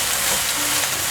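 Shiitake mushrooms stir-fried in a pan with about two tablespoons of added water give a dense, steady hiss of sizzling steam, close and loud throughout a brief moment.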